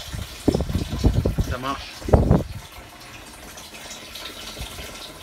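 Water gushes in short bursts through newly installed plumbing in a Peugeot Boxer camper van, with a pump and mixer tap fitted. It splashes up close, then fades to a quieter trickle, and someone speaks briefly over it.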